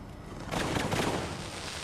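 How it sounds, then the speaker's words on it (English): Fireworks bursting at the 1995 Fort Vancouver Fourth of July Fireworks Spectacular: a loud, dense barrage of rapid crackling explosions swells after a half second and then eases off, with no voices. "we are ready to give you the best fireworks display west of the Mississippi"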